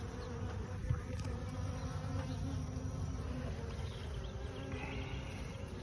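Honeybees in a Langstroth hive give off a dense, continuous buzz, steady and close throughout with no voices over it.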